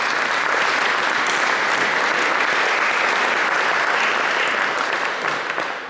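Audience applause at a charity concert celebrating Deaf and Blind Aid Lanka's 20th anniversary, a dense, even burst of many people clapping that holds steady for several seconds and fades slightly at the end.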